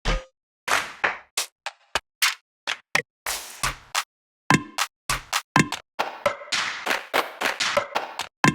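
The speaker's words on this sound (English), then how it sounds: "Let's try to find a clap real quick." Trap beat clap samples from the Native Instruments Concrete Sun expansion auditioned one after another, a string of short sharp claps and taps separated by silence, each distinct and close.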